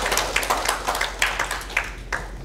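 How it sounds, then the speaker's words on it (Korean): A church congregation gives a short round of applause for the choir, its conductor and accompanist at a Sunday worship service, brief scattered clapping heard from a distance. "격려의 박수 한 번만 더 올려드릴까요?"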